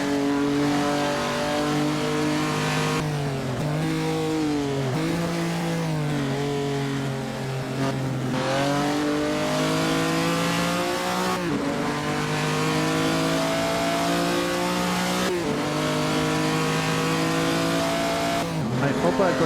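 Simulated 1948 postwar race cars at the Prix de Berne in Assetto Corsa, their engines roaring loud and continuous as revs rise and fall through gear changes, with tire squeal at moments.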